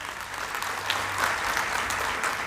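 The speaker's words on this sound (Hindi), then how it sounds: "इसलिए इन सब के लिए जोरदार ताली होनी चाहिए" A crowd at a rally on reservation and privatisation gives sustained, hearty applause, thick and even throughout with a few sharper claps standing out.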